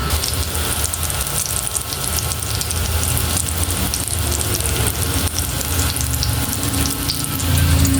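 Water runs steadily from a kitchen tap into a sink for washing, a constant close hiss and splash with slight shifts as things move under the stream.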